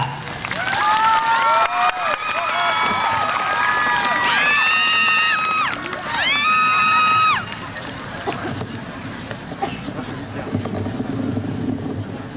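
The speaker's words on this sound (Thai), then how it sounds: "เสียงประมือต้อนรับคณะวิทยาศาสตร์ค่ะ" A university crowd at a science faculty cheer-leading contest cheers and claps in a sustained wash of noise, with whistle-like tones rising above the crowd, wind buffeting the microphone, and a voice announcing over it.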